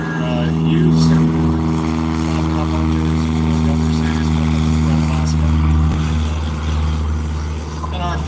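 A yellow Super Cub bush plane with a propeller engine drones steadily and loudly nearby, its engine hum holding a constant pitch, with a voice commentating over it.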